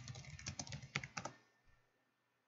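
Fast typing on a computer keyboard as a search is entered, a quick run of close, crisp key clicks for about a second and a half, then quiet with a final tap.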